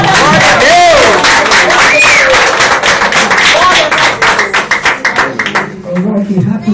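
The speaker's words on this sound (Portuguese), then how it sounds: "Uma salva de palmas." A congregation gives loud, dense applause mixed with cheers and crowd voices, clapping hard at first and then thinning into scattered claps as it fades out.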